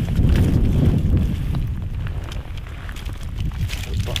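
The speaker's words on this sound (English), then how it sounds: "We shield it from this horribly cold wind." Cold mountain wind buffets a hunter's camp in the mountains, where birch smoulders in a small fire; a steady, close, low rumbling roar with gusty swells throughout, like wind hitting the microphone.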